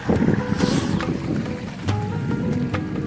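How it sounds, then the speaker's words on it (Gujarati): Irrigation water runs steadily through a cotton field, making a continuous rushing flow with breezy outdoor noise and a few faint knocks. "પાણી ચાલુ જ છે અત્યારે"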